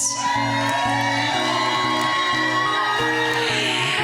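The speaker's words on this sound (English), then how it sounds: "They're cheering for you so loud." A pageant audience cheers loudly for a contestant at the Arizona America Pageants Triple Crown Finals, with a steady wash of whoops and shouts. Loud music with a repeating bass pattern plays along with the crowd throughout.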